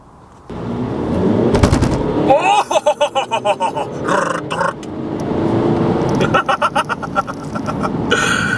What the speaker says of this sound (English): having a bit of sport in a 2-litre DSG Golf Highline